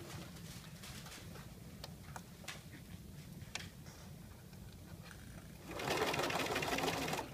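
A sewing machine bastes a lapped zipper in a quiet room, a soft steady whir with scattered faint ticks and clicks, and the stitching turns louder and busier for the last couple of seconds.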